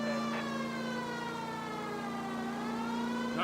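Steady wailing police car siren from the LA Noire video game, a loud sustained tone that holds its pitch throughout with no talking over it.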